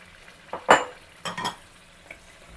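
A spoon scrapes and clinks against a cooking pot while mutton korma masala is stirred after water goes in, a few short scraping strokes over a quiet background.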